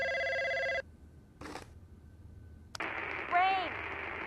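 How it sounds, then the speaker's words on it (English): A telephone rings with a trilling electronic bell burst, then falls silent. Brief clicks and noise follow, then a loud, warbling electronic tone sweeps in near the end. "He's gonna pick up the phone."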